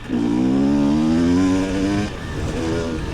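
An enduro motorcycle's engine revs hard and steadily close up, holding a loud buzzing pitch, then drops off briefly before picking up again at a lower, rougher idle.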